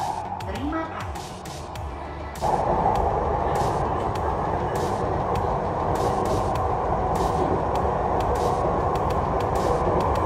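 A Jabodebek LRT train at Dukuh Atas station rumbles steadily and loudly, with a broad mechanical roar that swells after a brief quieter moment, with no talking.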